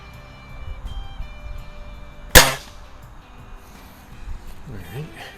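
A single sharp shot from a Crosman Optimus .177 break barrel pellet rifle fitted with a small 4X Walther scope, fired at a backyard target; a brief crisp crack stands out over low background noise, with a voice speaking briefly afterward.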